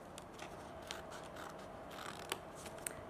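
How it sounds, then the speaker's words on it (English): Scissors cut through folded yarn for tartan weaving, giving a few soft, separate snips against a steady background hum, faint and close. "We're going to cut down"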